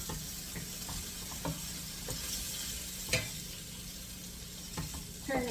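Bacon frying in a pan for a cabbage and chopped meat paella, giving a continuous bright crackling sizzle with scattered pops and a few scraping ticks, steady and close with no talking.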